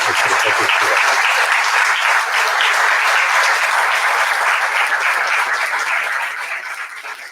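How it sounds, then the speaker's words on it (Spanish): An audience gives a warm, sustained round of applause at a library event, dense and close, with brief speech at the start before the clapping fades toward the end. "le diéramos las gracias con un muy caluroso aplauso"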